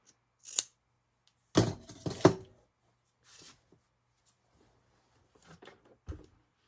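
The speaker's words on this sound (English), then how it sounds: "So here I am cutting down the drawn line." Scissors cut quilt fabric along a drawn line in a few crisp, separate snips with quiet pauses between them, close and fairly soft, with no talking.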